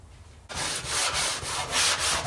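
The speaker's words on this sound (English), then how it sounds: "We're going to go ahead and block this entire panel with 80 grit sandpaper." Block sanding a car body panel with 80 grit sandpaper: a close, loud, steady rasp of rhythmic back-and-forth strokes that begins after a brief quiet moment.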